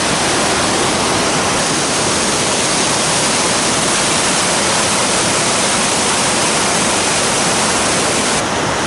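The Akkem river in the Altai mountains rushes in a loud, steady, broadband roar of fast mountain water, constant and close with no voices.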